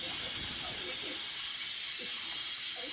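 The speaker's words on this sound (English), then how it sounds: "Let's let the steam out of this Instapot, and we'll open it up and see what it looks like." Steam rushes out of an Instant Pot pressure cooker's release valve in a steady, loud, broad hiss that holds unbroken for the whole stretch, close by, while black bean and sausage soup cooks inside.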